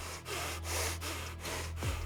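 Deliberately heavy, forceful breathing demonstrated up close: a steady stream of rushing breath broken by brief pauses, loud and breathy with a low hum underneath.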